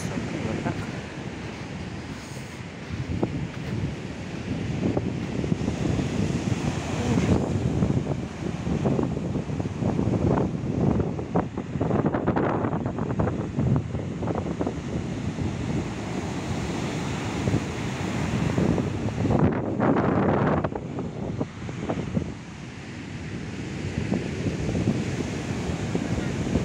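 Stormy sea surf crashing onto the beach at Lloret de Mar, Spain, with strong wind buffeting the microphone; continuous loud roar of breaking waves and rushing water with repeated surges, and a voice occasionally talking over it.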